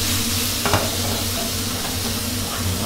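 Blanched squid with chili and garlic sizzles and hisses steadily in a hot pan over high heat, with a few scraping stirs, loud and close with no voices.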